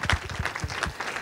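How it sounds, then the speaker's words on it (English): A congregation at a church gathering applauds for a pastor, a brief, moderately quiet spatter of many hands clapping with a few louder individual claps. "Let's give a one more big up round of applause to our Pastor Mu."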